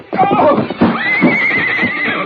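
A horse whinnies loudly and close in an old 1940s Western radio drama, a long shrill neigh rising and wavering over hoof clatter and rustling, with no clear talk.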